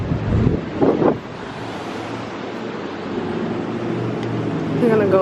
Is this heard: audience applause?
no